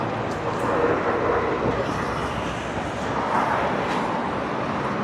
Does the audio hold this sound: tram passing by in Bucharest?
yes